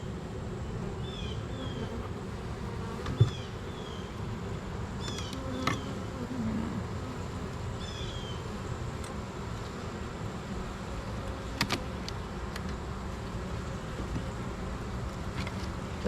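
Honey bees buzz in an open hive during a weekly inspection, a dense, continuous hum with individual bees droning past close by and a few faint clicks and bumps.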